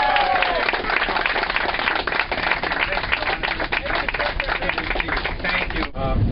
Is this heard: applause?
yes